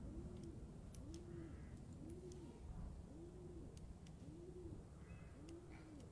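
Pigeon cooing in a video game, a soft repeated coo roughly once a second across six rounds, steady and fairly near, with faint high chirps and ambient noise behind.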